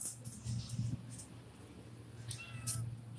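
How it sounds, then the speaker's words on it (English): A house cat meows several times, close and fairly quiet, with short calls early on and another pair of meows near the end over a low steady background hum. "That stupid cat."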